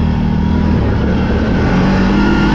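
A 2024 CFMoto CForce 800 XC ATV engine accelerates hard and close by, with a loud, continuous roar that shifts pitch as it revs.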